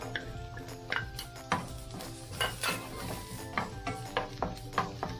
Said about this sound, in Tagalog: isutay lang po natin ang ating mga aromatics hanggang mag-translucent po yung ating sibuyas